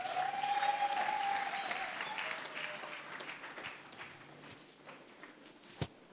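A church congregation applauds during a sermon; dense, loud clapping fills the start and gradually thins and fades over about six seconds, with a single sharp knock near the end.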